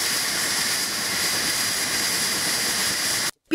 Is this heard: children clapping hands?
no